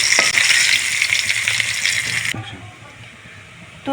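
Rohu fish fries in hot oil with a bright, steady sizzle for a couple of seconds, then the hiss cuts off sharply as the pan is moved, leaving a quieter crackle and a few metallic clinks.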